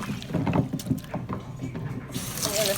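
Water sloshes and swirls in a container as shower knobs are set to soak in warm water mixed with a cap of cleaner, a close, soft liquid churning.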